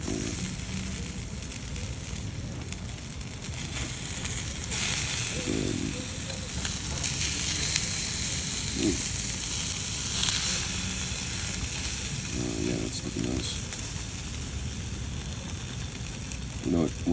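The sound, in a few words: Korean kalbi beef sizzling on the grill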